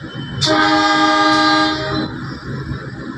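A CommuterLine train hauled by a CC 201 locomotive departs Kapas station, its horn blaring loud and close for about one and a half seconds before fading into a low rail rumble.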